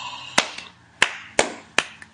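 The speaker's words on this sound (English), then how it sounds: "Slow clap." One person claps slowly, four sharp hand claps spaced roughly half a second to a second apart, each close and distinct, with quiet room tone between them.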